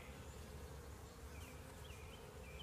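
A honey bee swarm that cannot fly, made up of workers around a virgin queen, gives a faint, steady, continuous buzzing. It sounds close and comes alone, with no voices over it.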